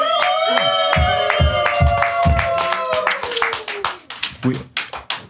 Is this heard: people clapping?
yes